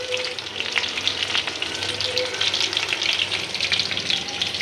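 Chicken meat frying in a pan for chili chicken, a steady close sizzle and crackle of hot oil running throughout with faint stirring scrapes, no talking.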